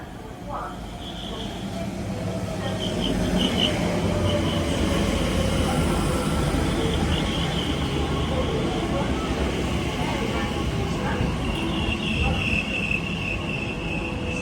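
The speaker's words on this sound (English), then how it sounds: "My train is here." A train pulling into a UK railway station, a steady loud rumble of wheels and carriages with faint high squeals, continuous and close throughout.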